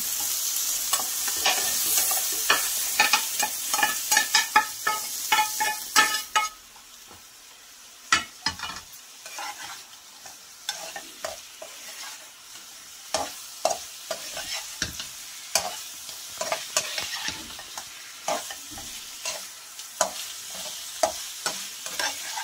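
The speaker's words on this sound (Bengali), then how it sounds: "আলুগুলো ভালো করে মশলার সাথে কষিয়ে নেব" Potatoes stirred and fried in spice masala for a drumstick curry: a loud sizzle at first that quietens after a few seconds, then a long series of irregular spoon scrapes and knocks against the pan, close and without speech.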